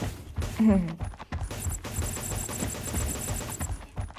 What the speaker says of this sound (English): let's take the event gun and shoot